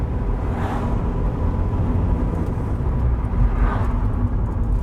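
A Rover 25 Commerce van rolls downhill in third gear with a dragging brake, a steady loud road and engine drone inside the cab with a faint rubbing hiss swelling twice.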